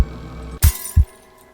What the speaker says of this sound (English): she heard a loud shatter as the glass fell to the ground as if it had been thrown